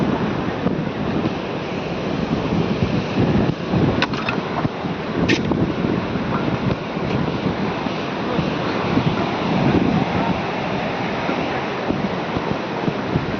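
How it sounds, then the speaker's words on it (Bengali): Sea waves at Gangasagar beach, a constant loud roar of surf with wind buffeting the microphone throughout, no gaps between breakers. "ঢেউ অনেকটা কাছাকাছি চলে এসছে"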